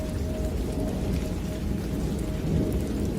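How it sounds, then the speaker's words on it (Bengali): Heavy rain pouring steadily with thunder rumbling underneath at night, a dense continuous downpour heard alone without voices. "বৃষ্টি একটুও থামল না বরং ঝমঝম করে আরও জোরে পড়তে লাগলো"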